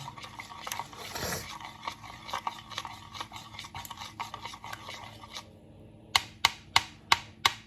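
Crunchy potato ingredients stirred and scraped in a bowl, a steady run of close, soft rasping strokes, then a quick series of five sharp taps near the end.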